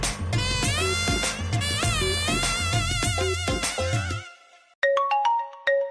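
A phone ringtone plays over background music in a Telugu TV drama scene, a short melodic tone pattern coming in clearly after the music fades, loud and close.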